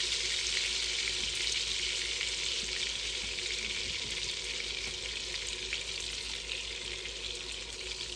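Smashed potatoes fry in a pan of melted butter and olive oil, giving a steady, dense sizzle and crackle that holds at an even, fairly loud level throughout, with no talking.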